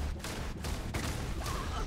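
Gunfire in the space game Starfield, a few loud sharp shots in quick succession over dense, continuous game noise.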